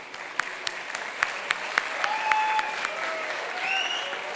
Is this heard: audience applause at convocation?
yes